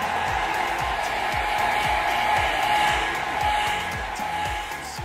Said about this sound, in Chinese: 再打开吹风机低温吹10秒钟